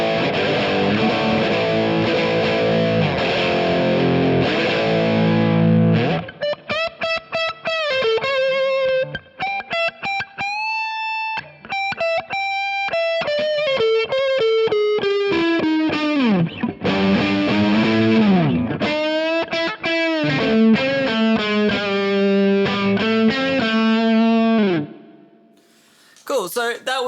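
An electric guitar played through an Overloud OTS vintage amp simulation with gain rings out in distorted, sustained notes and bends, dense chords at first, then single-note phrases with brief pauses, loud and alone.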